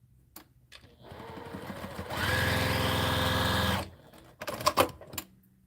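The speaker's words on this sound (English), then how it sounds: "I sew it at home on a straight stitch machine for piecing." A straight stitch sewing machine piecing fabric runs in one steady, fast stitching burst of about a second and a half. Quiet handling clicks and rustles come before and after it, with no talk.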